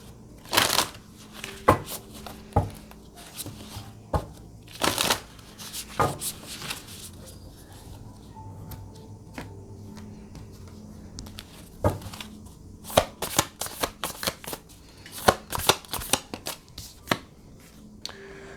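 A deck of oracle cards shuffled by hand, with loud slaps and quick papery riffles arriving in uneven bursts and faint room noise between them.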